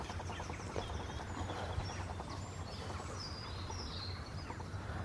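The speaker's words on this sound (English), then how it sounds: "that noise is like a few hundred crows" A flock of a few hundred crows calls at dawn during a morning walk, a faint, dense chatter of overlapping caws over a steady low background hum, with no talking.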